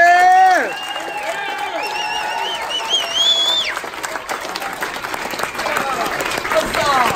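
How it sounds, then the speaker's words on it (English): Wedding guests break into applause and cheers at a reception, a dense crowd clap under loud whoops and whistling voices, with people shouting over it near the start. "When you put your hands together and clap and cheer them out."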